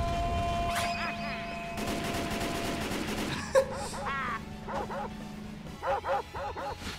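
A cartoon dog barks in an SMG4 Mario golf animation, several sharp, clear yaps in quick succession near the end, after a busy stretch of cartoon noise and popping, gunfire-like bursts.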